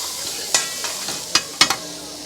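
Tawa pulao tossed in hot oil on a griddle, a steady loud sizzle broken by several sharp metallic scrapes and clanks of the spatula, with no talking.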